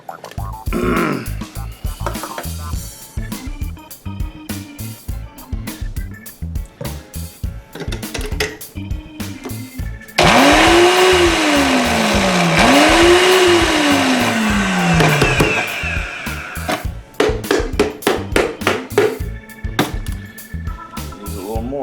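Cosori Pro blender on high grinding sesame seeds with a little oil into tahini paste, a loud steady whirring roar that surges and warbles for several seconds, with quieter chopping and clatter of the jar before and after.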